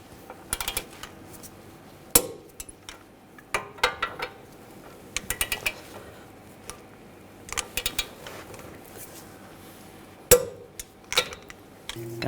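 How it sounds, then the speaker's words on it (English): Torque wrench clicking and ratcheting on the front brake caliper bolts of a 2007-2013 BMW 328i during a brake job, a series of close, sharp mechanical clicks in irregular bursts with quiet gaps between. "Now torque these to 81 foot-pounds."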